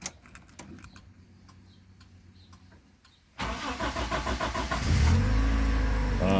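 An older Perodua Kembara with a high-speed planetary-gear starter, and with engine oil contaminated by water, cranks with a rapid whirring starter and catches into a loud rough idle, after faint clicking and ticking beforehand.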